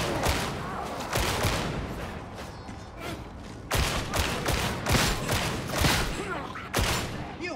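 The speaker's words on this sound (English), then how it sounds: "Gunfire." Rapid bursts of gunfire from a PC shooter video game, several loud cracks and volleys arriving in uneven clusters, some overlapping, with a few mechanical clicks between them.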